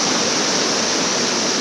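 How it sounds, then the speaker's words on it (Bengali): Waterfall at Chakrasila roaring in a dense, constant wash of white noise, loud and close, filling the space with no breaks or voices. "কেমন লাগছে ঝর্ণাটা"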